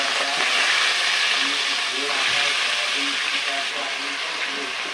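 Prawns hitting hot oil with crushed garlic and a pinch of asafoetida, giving a steady, loud sizzle and hiss that runs throughout with faint bubbling pops; no one speaks.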